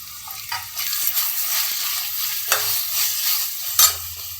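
Tomatoes added to onion and ginger-garlic paste sizzle in a frying pan, with a soft steady hiss broken by several distinct scraping stirs of a spoon, close up and without talk.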